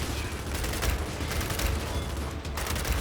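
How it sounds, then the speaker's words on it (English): Sustained rapid gunfire from a Gears 5 shooter firefight against a swarm, a dense, continuous rattling barrage with heavy low rumble that stays loud and unbroken throughout the short stretch, without talk. "I can just shoot them from here"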